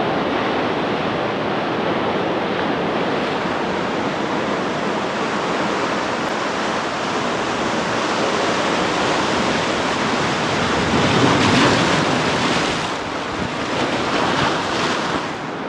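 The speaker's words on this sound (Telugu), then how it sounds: "బండలు అక్కడ దాకా లాస్ట్ చివరి దాకా ఉంటాయి, అలలు వస్తాయి అక్కడ" Sea waves break steadily on rocky Rushikonda Beach in Visakhapatnam, a continuous loud wash of surf with wind buffeting the microphone and a slightly stronger surge near the end.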